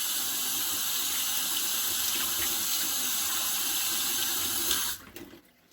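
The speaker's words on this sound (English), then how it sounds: "I need to rinse my hands off because I'm getting flour on my strawberries" Flour-covered hands are rinsed under a running kitchen tap, a steady, close rush of water that cuts off abruptly near the end and leaves a brief quiet tail.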